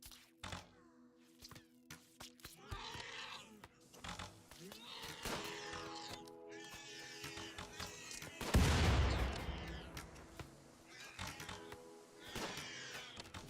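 Sparse gunshots from a RimWorld colony firefight sound as sharp, quiet cracks scattered irregularly through the scene, with one heavier thumping burst midway and someone talking over most of it.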